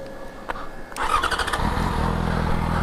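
A Yamaha FZ6 motorcycle engine starts up and settles into a steady, throaty idle in neutral, close and fairly loud, with a low continuous rumble.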